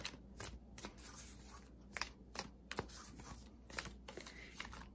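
Tarot cards shuffled by hand, a quick run of soft crisp riffles and slaps repeating in a steady rhythm, close and fairly quiet with no talk.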